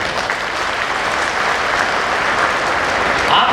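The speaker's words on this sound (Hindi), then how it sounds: "सभा एक बार ताली बजाओ" A festival crowd claps together on request, a dense, loud, continuous patter of many hands that holds steady and swells slightly at the end.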